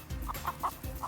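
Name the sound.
chickens clucking at a poultry farm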